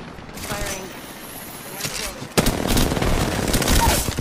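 Rapid automatic gunfire in the video game Apex Legends, dense bursts of shots that start a little over halfway through and continue loud and close to the end, with players talking over it.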